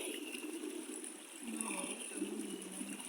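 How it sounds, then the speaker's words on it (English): A mountain stream flows with a steady, hushed rush of water, heard at moderate distance and unbroken for the whole stretch. "you hearing the noise for water noise? You can hear the water come from there."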